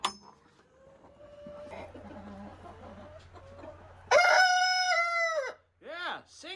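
Freddie the farm rooster gives one loud, close crow on a snowy day, a long harmonic call that breaks off into shorter rising notes, after a stretch of softer clucking and background noise.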